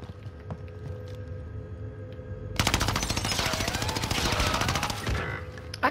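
Rapid video-game gunfire erupts midway after a quieter stretch, a dense burst of automatic shots continuing loud for several seconds alongside game ambience, closing near the end.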